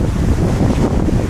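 Strong gusty wind buffets the microphone in a continuous low roar on a small-pebble beach in southern Bohol, Philippines, with the faint wash of surf behind it.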